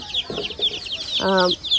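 A Sonali chicken clucks with a short harmonic call near the end, over a busy yard where faint high chirps repeat throughout.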